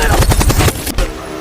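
Rapid automatic gunfire bursts out loud and close in a war film, about half a second of fast repeated shots followed by a couple of isolated cracks.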